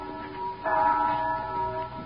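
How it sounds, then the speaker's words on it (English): The church bell of St. Boniface rings as a radio-drama effect, a single mellow bell strike that swells and hangs in a long, steady hum over faint background noise. "That's the bell at St. Boniface, isn't it?"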